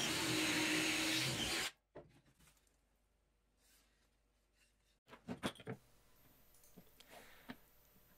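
A 1.5-inch drill bit bores holes in pallet wood, giving a loud, steady whirring roar for under two seconds before cutting off. Quieter knocks and handling sounds follow.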